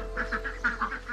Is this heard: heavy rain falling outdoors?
no